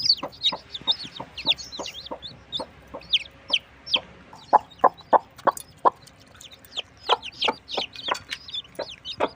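Hens cluck near the microphone as feed mixed from bran, millet and jaggery water is set out, giving a steady, rhythmic series of short clucks with higher calls rising toward the end.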